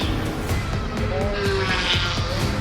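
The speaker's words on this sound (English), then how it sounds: "Ibiza Farm Motorsports with the McLaren Artura GT4 has just come in." A McLaren Artura GT4 race car rolls into the pits during an endurance race, its engine revving and tires squealing amid busy pit-lane noise, with a commentator talking over it.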